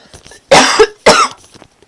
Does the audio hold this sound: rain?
no